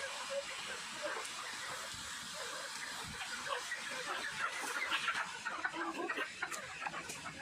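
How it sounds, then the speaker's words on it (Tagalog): Native chickens, some of them white crossbreeds, cluck and call across a rural Philippine farmyard in a steady, busy chorus, with faint talk and outdoor hiss in the background. "Ayan, ang dami manok o."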